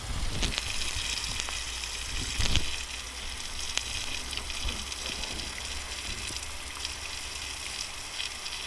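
Water gushes steadily from a pressurised frost-free hydrant line at a greenhouse, a loud continuous rushing with a few brief spurts and knocks and no voices.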